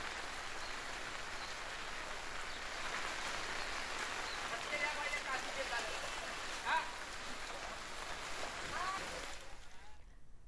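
Heavy monsoon rain pours over the suburbs of Mumbai in Vasai-Virar, a steady, dense hiss of downpour on surfaces that holds at a constant level for the whole stretch before dropping away at the very end.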